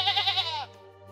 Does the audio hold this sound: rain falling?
no